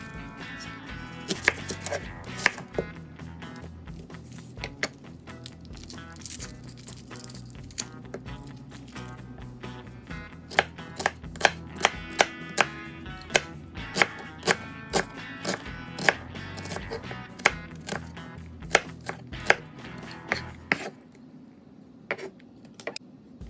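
A knife chops vegetables on a cutting board while prepping salsa verde, giving a steady run of sharp, close knocks that continues for about twenty seconds before stopping, with a low background hum and no talking.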